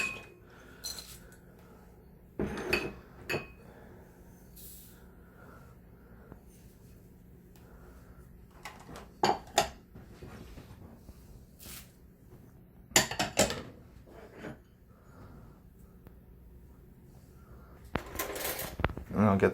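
Dry ingredients for a pumpkin oatmeal recipe being tipped into a serving bowl, heard as a few separate clinks and rattles of dishes and utensils, close up and fairly quiet, with gaps of low room noise between them.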